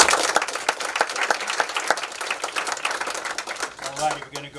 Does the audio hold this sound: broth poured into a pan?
no